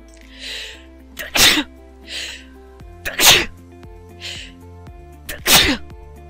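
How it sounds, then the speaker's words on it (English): Three loud sneezes, each preceded by a sharp inhale, spaced evenly a couple of seconds apart, close by and otherwise quiet. "I have to sneeze."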